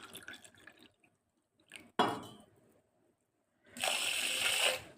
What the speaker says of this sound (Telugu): 2 గ్లాసెస్ వాటర్ పోయాలి